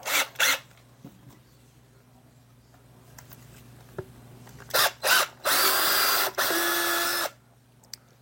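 A power drill with a 7.32 bit runs in several short bursts before one longer sustained whine that bites into the workpiece, loud and close over a faint background hum.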